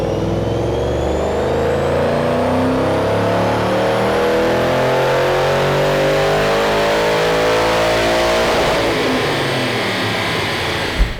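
A 2013 Ford Mustang GT with the Gen 1 Coyote V8 and simple bolt-ons runs a full dyno pull. The engine note climbs steadily for about eight seconds, then lets off into a coasting rumble and ends with a brief pop.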